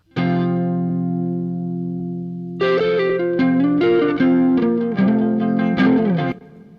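Electric guitar plays a solo over a backing track, opening with a long sustained ringing chord, then a run of bright, effect-laden melodic notes before cutting off.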